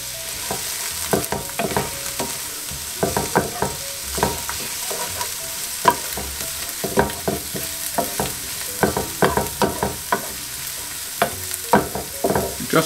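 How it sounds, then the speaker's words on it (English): Garlic and onions sweat in a pan for a Spanish tortilla: a steady, fairly loud sizzle runs throughout, broken by frequent sharp scraping clicks as a utensil stirs the pan, with no voices. "So that's our garlic and our onions, what we're going to sweat off."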